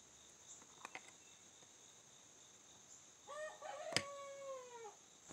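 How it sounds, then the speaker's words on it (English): A young rooster crows once at moderate distance, rising and then trailing off, over a steady background of chirping crickets. "That was one of the new roosters."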